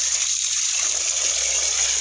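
Hot spring water gushing strongly from a source in a volcanic area, a steady, loud rushing wash that runs continuously throughout without breaks.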